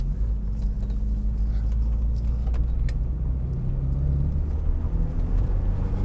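Steady, loud, low engine drone from a 1987 Porsche 944 Turbo under way, with a faint rattle and a slight shift in tone as the turbo boost comes on.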